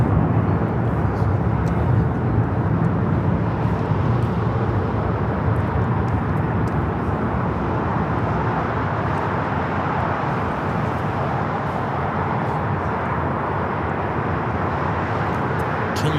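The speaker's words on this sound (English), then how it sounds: "This is Alaska Airlines 1406 taking off to Manzanillo on the 737-800." An Alaska Airlines Boeing 737-800 takes off at LAX, a loud, continuous low jet rumble and roar that holds steady from start to finish, with faint voices underneath.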